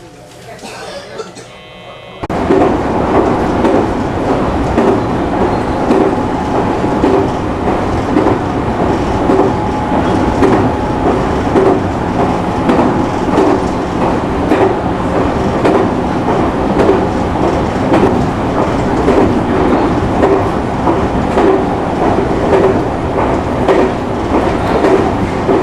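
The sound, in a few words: JR train passing on rails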